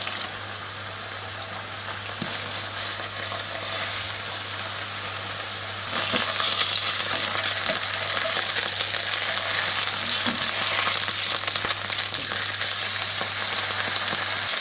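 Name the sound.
steak frying in oil in a hot pan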